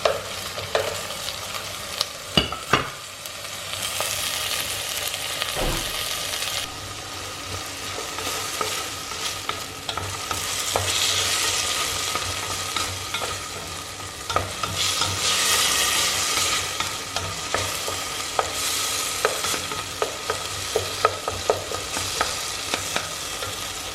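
Tomatoes frying in a pan for Italian pasta e fagioli, a continuous close sizzle that swells and fades as they are stirred, with occasional utensil knocks and scrapes and no voices.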